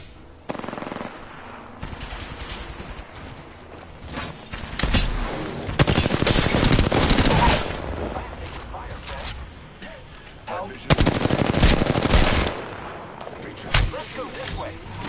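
Rapid automatic gunfire bursts from an Apex Legends battle, loud clattering volleys separated by short pauses, with game voice callouts mixed in.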